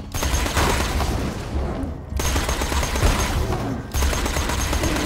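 Video game gunfire, dense rapid automatic bursts of shots blending into a loud continuous roar, broken by two short pauses, close and heavy, with no talk.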